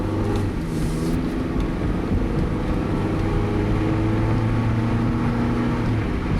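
A warmed-up Honda car drives and shifts through its gears, a steady, close engine drone with a low rumbling hum and some wind noise running throughout.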